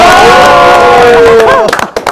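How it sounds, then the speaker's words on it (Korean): A live audience cheers and shouts loudly to celebrate a channel passing 95,000 subscribers, with rising whoops and voices that thin out near the end of the burst. "자, 박수."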